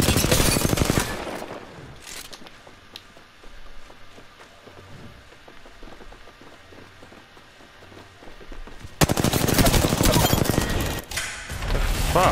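Rapid bursts of video game gunfire and automatic weapon fire, loud at the start and again near the end, with quieter footsteps and movement sounds between the volleys.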